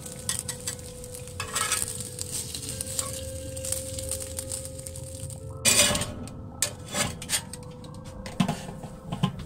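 Burgers fry in a pan after bacon, a quiet sizzle under intermittent clatter and scraping, with a louder burst of handling noise near the middle.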